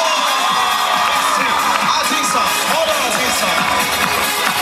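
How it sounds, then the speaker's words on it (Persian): At a dolphin show on Kish Island, the audience cheers loudly, with children screaming and shouting in a dense, continuous roar of crowd noise. "جیغای بلند شما"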